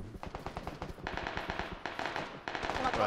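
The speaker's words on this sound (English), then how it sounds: "They're getting shot at." Rapid bursts of video game gunfire, loud, dense and repeated across the whole stretch, with people talking over it.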